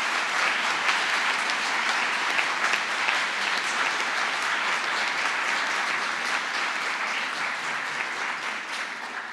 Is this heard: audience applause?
yes